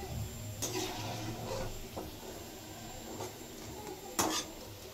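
Fried onions being lifted out of a pan of hot oil with a metal utensil make a few faint scraping clinks and taps over a low background sizzle, with one sharper clink near the end.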